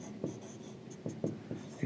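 Chalk or marker tapping and scratching on a board as structural engineering notes on support reactions are written during a lecture, several short quiet strokes in a sparse rhythm with faint room noise.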